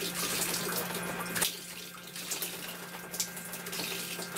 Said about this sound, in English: lot of air bubbles traveling through the line.